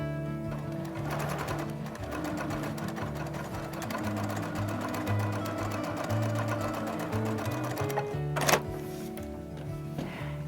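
A sewing machine stitches a pocket onto a fabric caddy with a fast, steady mechanical whir that runs continuously up close. A sharp clunk near the end is followed by a brief pause.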